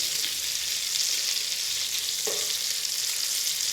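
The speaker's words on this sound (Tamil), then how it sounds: "இந்த கருவாடு பார்த்திங்கன்னா அப்படியே ஃப்ரை ஆகிட்டு இருக்குது." Dried fish (karuvadu) fries in a pan for a village-style kuzhambu, a continuous close hiss and sizzle with one small clatter partway through and no voices.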